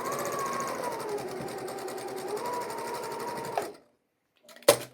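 A sewing machine runs steadily for about three and a half seconds while joining quilt rows along a quarter-inch seam guide, a close, even mechanical whir that stops abruptly, followed by silence and a brief clunk.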